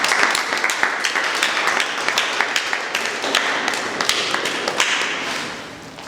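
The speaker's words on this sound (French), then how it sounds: "Est-ce qu'on peut poursuivre en applaudissant ces" An audience at a live talk applauds in a brisk patter, with sharper individual claps standing out and the sound tapering off at the end.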